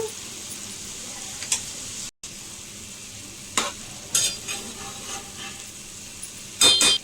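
Salt, turmeric and chili being stirred into a frying drumstick leaf curry, with a steady low sizzle, a few sharp spoon scrapes and clinks scattered through, and no talking.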